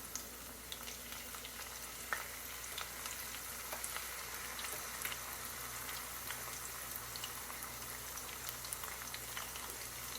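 Thin egg white chips frying in a pan in a single layer, giving a soft, steady sizzle with scattered small crackles and pops, faint and close.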